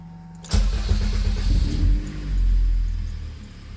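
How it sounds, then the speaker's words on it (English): A Honda CRX with a K24 engine cranks and fires up about half a second in, then settles into a loud, close, rumbling idle that swells briefly as the revs rise and fall. "let's go ahead and start up the engine"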